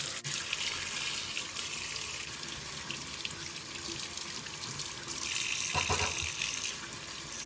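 Small oranges are washed under a running kitchen tap, a steady broadband rush of water with a louder gush of splashing near the end, close and continuous with no talk.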